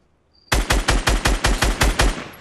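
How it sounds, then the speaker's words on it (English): A rapid burst of sniper gunfire in Fortnite, about ten evenly spaced loud shots in quick succession, sharp and close. "be careful, they're sniping also"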